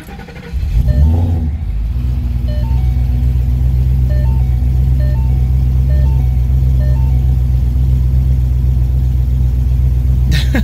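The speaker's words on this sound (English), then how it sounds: "let's do a little cold start silliness, see how it all goes." A Ford Mustang with a Coyote V8 and aftermarket cams cold-starts: a starter crank, then the engine catches and settles into a loud, steady, close idle with a lumpy low rumble.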